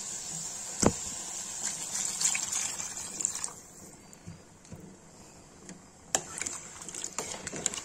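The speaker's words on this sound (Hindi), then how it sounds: "गाइस देखिए भून गया, इसमें पानी डाल देंगे।" Water is poured into a pan of frying soya chunk and potato curry, a close splashing gush with sizzling and clinks of a utensil, louder at the start and again near the end.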